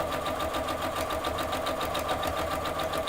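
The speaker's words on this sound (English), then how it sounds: "I'm putting my pieces under the foot of the machine. I'm going to sew at 1/4 inch." Sewing machine stitching quilt pieces at a quarter-inch seam for a nine patch block, a steady, fast, close mechanical whirr with an even pulsing rhythm running throughout.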